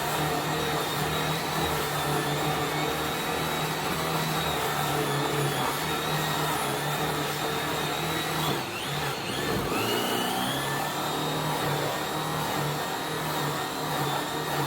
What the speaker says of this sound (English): Shoving that buff right in the bottom side of the holes there and watching out for my valve stem.